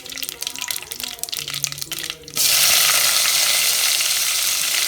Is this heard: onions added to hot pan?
yes